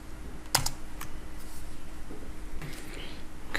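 Keys on a computer keyboard are pressed in a short Ctrl+Enter combination in Excel, a couple of crisp clicks close up over faint room noise, with a lighter tap near the end.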